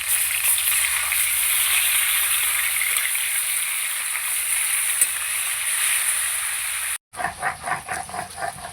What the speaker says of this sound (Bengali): মাছের মাথাগুলো একবার উল্টে দেবো।